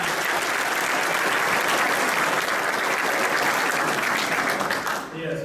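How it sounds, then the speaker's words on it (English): A packed room at a military noncommissioned officer academy ceremony gives loud, sustained applause for a newly introduced director of education, a thick unbroken wash of clapping that cuts off abruptly near the end. "Would y'all give him a round of applause?"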